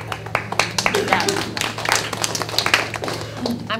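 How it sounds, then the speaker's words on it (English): Hands clap at a live event with a quick, uneven run of claps mixed into speech. "I'm clapping at them, by the way."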